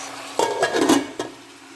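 A metal lid clatters onto a cooking pot of salmon head adobo with a bright ringing clank, a brief scraping rattle, then a final lighter tap.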